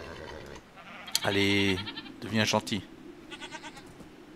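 Goat bleating in Minecraft, two drawn-out nasal bleats close together, loud and near, with a player speaking briefly between and after them.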